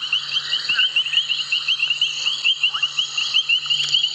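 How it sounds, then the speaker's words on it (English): A dense chorus of high, piping painted reed frog calls repeats rapidly and steadily, with a few other frog notes mixed in, recorded outdoors on a sunrise safari drive with a low hum underneath. "Those are the painted reed frogs."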